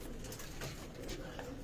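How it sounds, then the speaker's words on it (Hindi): Pigeons coo softly on a rooftop loft, a low burbling murmur that repeats steadily against continuous background noise. "बहुत अच्छे कबूतर जी माशाल्लाह"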